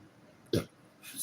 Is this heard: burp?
yes